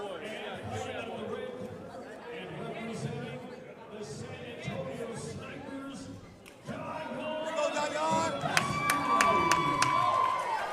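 A crowd murmurs and cheers at a fight event in the Shrine Auditorium in San Antonio, Texas. Commentators talk over the steady din, which swells louder partway through.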